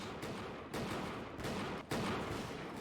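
Dense, continuous musket volleys crackle in a Bannerlord battle between British Rangers and French troops, loud overlapping gunfire with brief dips before another volley erupts.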